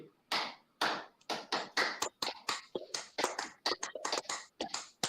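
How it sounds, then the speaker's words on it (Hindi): Brisk clapping with both hands during an online yoga class, about twenty sharp, close claps in a quick, slightly uneven rhythm with short gaps, fairly quiet overall. "दोनों हाथ से ताली बजाइए"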